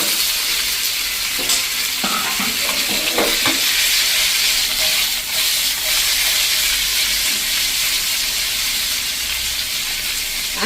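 Dudhi methi muthiya dumplings sizzle and fry in a hot oil tempering with a pinch of hing, a steady close crackle with stirring scrapes and bursts of hiss throughout, no voices.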